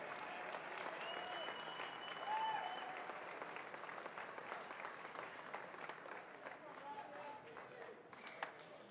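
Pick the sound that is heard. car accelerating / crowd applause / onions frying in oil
crowd applause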